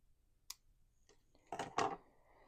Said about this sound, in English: We're going to cut it off here.